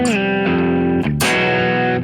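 Electric guitar with two humbucking pickups playing sustained, ringing chords at an edge-of-breakup tone with slight grit; loud and close, with a brief pause near the middle before the chord is struck again and rings out.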